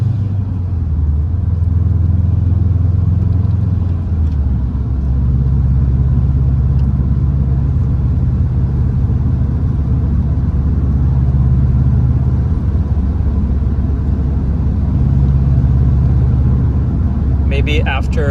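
A 2010 Subaru STI cruising under light throttle, steady low engine drone and road rumble filling the cabin, with slight shifts in engine tone and no talking.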